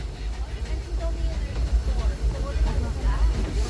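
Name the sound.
Disneyland Railroad train running on the rails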